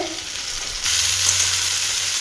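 Sliced bitter gourd fries in oil with salt and turmeric, giving a loud, continuous sizzle that swells slightly partway through, with no voices.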